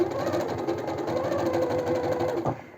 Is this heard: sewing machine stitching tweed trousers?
yes